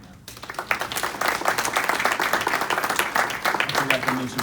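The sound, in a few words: meeting audience applause for township employees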